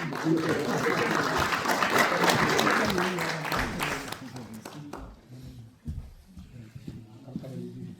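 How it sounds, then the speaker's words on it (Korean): Dense audience applause fills a ceremony in the main auditorium of the National Assembly Library for roughly four seconds, loud and steady, then thins out as a voice takes over over scattered claps. "박수로 맞아주시기 바랍니다"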